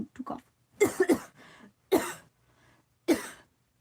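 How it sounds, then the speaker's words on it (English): A woman coughs several times in separate bursts, close to the microphone, with short quiet gaps and faint breaths between the harsh, throaty hacks. "Hold on, I'm going to cough."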